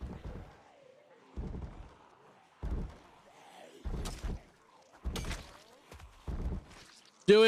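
Zombies bang on doors in the survival game Project Zomboid, heavy thuds arriving in seven separate bursts roughly a second apart, loud and nearby against a quiet background.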